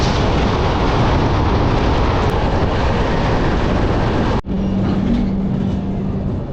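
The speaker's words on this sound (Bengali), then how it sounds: "2 নম্বর প্ল্যাটফর্মে ট্রেন এসে দাঁড়িয়েছে।" Passenger train at Kharagpur railway station platform, a loud continuous rumble and rush of wheels that cuts briefly, followed by a steady hum with a faint tone, heard alone.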